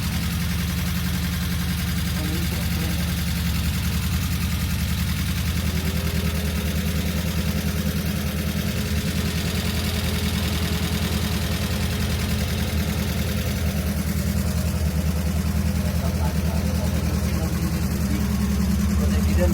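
A 2-litre Citi Golf drag race car idles loud and close in a steady, rough low rumble that never lets up, with people talking over it.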